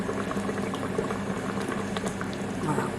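Chicken fillets in tomato cream sauce simmering in a pan, a steady dense bubbling and popping that runs without pause at a moderate level.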